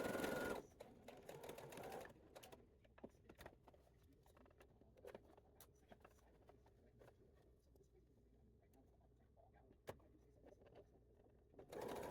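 Sewing machine stitching fabric for a dress, a short quick whirring burst at the start and another at the very end, with soft scattered taps and handling clicks in a quiet room between.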